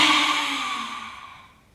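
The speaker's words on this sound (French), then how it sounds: "on va sortir l'air en sortant la langue" A child-style lion-pose yoga breath pushes air out forcefully with the tongue out: a single breathy, airy rush that starts strong and fades out over under two seconds.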